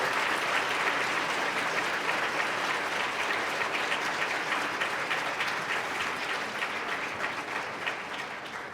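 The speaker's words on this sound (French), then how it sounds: "On peut l'applaudir." A crowd at a Canadian citizenship ceremony gives sustained, even applause, dense steady clapping that holds strong and eases slightly toward the end.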